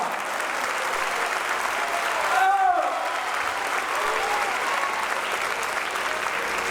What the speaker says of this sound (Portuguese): Ah, se você puder, aplauda mais forte ao Senhor.